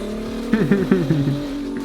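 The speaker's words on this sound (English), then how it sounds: "that turbo spool sounds insane, and they're not even on it." A twin-turbo Ferrari F12 engine hums steadily while a rising turbo whistle spools up in a few quick surges, fairly close and loud.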